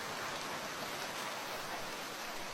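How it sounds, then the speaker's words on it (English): A heavy, sudden downpour of rain gives a dense, even hiss that stays constant throughout, with no other sounds present. "Downpour, a heavy, sudden rain like this."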